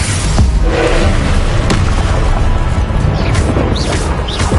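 Confringo blasting spells exploding in the Hogwarts Legacy video game, loud booming blasts and crashes layered over constant battle noise, with a few sharp whooshing impacts close up.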